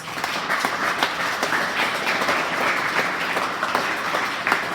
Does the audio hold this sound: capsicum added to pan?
no